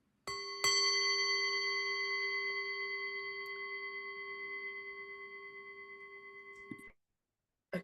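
A meditation gong is struck once and rings out as a bright, sustained metallic tone that slowly fades over about six seconds before stopping abruptly, with no one speaking.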